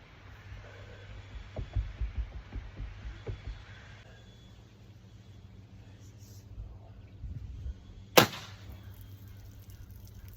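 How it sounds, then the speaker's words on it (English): A bare-shaft arrow with no fletching is loosed from a PSE Omen compound bow at 80 pounds draw weight, one sharp, brief snap and thwack standing out after quiet low thumps and handling noise. "Shooting the PSE Omen as usual, 31-inch draw, 80 pounds."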